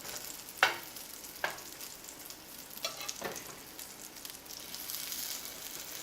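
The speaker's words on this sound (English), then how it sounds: "I'm going to scoop them onto the pan and just gently form it into a patty shape." Lentil burger patties cook in a pan on an electric stove set just below medium, with a faint, even sizzle and a few sharp clicks and scrapes from shaping them.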